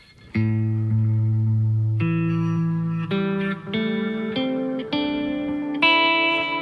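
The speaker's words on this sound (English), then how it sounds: "the delay repeats kind of turn into reverb" Clean electric guitar notes ring out one after another through a TC Electronic delay pedal, each tail smearing into a lush, washy ambience as the repeats blur together like reverb.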